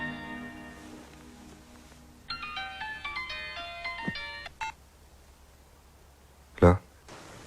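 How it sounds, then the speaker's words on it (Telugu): Phone ringtone in a Telugu film scene, a melodic electronic ring of rising and falling tones playing for a couple of seconds, followed by a short loud knock or thud. "ఫోన్."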